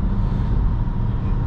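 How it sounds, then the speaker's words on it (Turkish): A 2020 Peugeot 5008 with the 130HP engine and EAT6 automatic gearbox accelerates, its engine drone and road roar steady and loud throughout, with no distinct gear change standing out. "Tırdan sonra bir gazlayalım bakalım, vitesi görelim nasıl yapacak."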